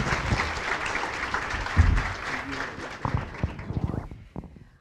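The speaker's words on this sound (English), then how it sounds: "if we would give a round of applause for our panel." An audience at a community breakfast applauds a panel, a sustained wash of clapping from many hands that gradually thins and fades toward the end.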